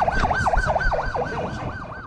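An ambulance siren after an attack on Habit village in Idlib wails loud and near in rapid, evenly repeating rising-and-falling sweeps, with no talking over it.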